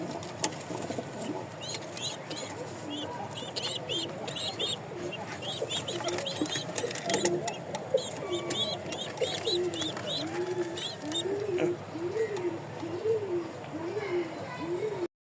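Pigeons coo repeatedly in a rhythmic series through a loft in Mirpur, Dhaka, where racing pigeons are kept with young birds, mixed with other bird calls and someone speaking over the steady background.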